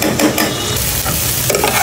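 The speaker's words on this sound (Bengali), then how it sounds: "এই যে এগুলো হচ্ছে আমি একদম শুকনো শুকনো করে কষিয়ে নিয়েছি" Taro stolons stir-fried dry in a pan, with loud close scraping strokes of a spatula repeating every fraction of a second over a constant sizzle, and no voices.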